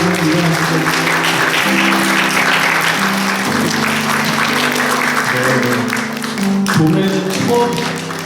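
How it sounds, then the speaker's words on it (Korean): A church congregation gives a warm, sustained round of applause to welcome a visitor during a Sunday service, with steady clapping filling the room over soft sustained instrumental tones. "뜨거운 박수 좀 환영해 주실까요?"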